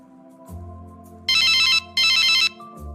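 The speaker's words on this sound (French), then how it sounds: "Lucas est chez lui, il reçoit un appel de Madame Dupont." A telephone rings indoors at home for an incoming call: two loud, bright electronic ring bursts with a short gap between them, heard alone with no one speaking.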